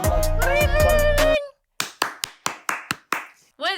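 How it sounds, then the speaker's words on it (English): Several sharp hand claps ring out one by one, close and crisp with short gaps between them, after a stretch of loud music. "Was it claps?"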